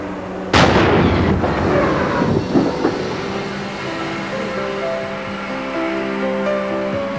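A tyre with a fault bursts at 9.7 bar (140 psi) inside a safety cage, making one sudden, very loud close blast. A rattling, reverberant decay follows, then a steady mechanical hum.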